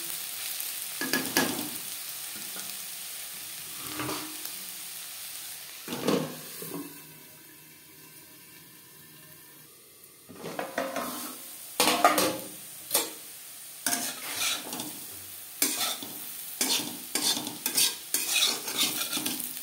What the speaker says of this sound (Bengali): আলু বেশ ভালো করে ভাজা হয়ে গেছে